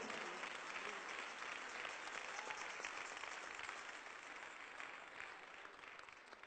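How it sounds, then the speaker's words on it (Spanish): Sustained applause from a church congregation during an evangelistic sermon in Portland, Oregon; steady dense clapping continues throughout, slightly easing toward the end, with no voices over it. "Denle fuerte ese aplauso"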